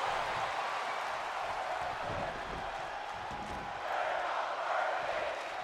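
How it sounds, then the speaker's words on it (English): A virtual wrestling arena crowd in WWE 2K24 roars and cheers in a continuous, fairly faint wash of noise during a women's match event. "The crowd are loving this."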